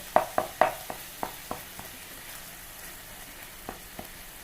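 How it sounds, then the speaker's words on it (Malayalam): Garlic paste frying in a pan, a soft continuous sizzle punctuated by a quick run of sharp spatters and pops early on, then sparser crackles, close by with no talking. "വെളുത്തുള്ളി പേസ്റ്റ് ഇട്ട് കൊടുത്തിട്ടുണ്ട്"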